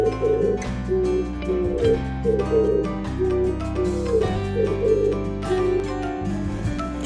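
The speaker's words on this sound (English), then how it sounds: "Pigeon, pigeon." Pigeons cooing in soft repeated throaty phrases, about a handful of calls, under continuous background music.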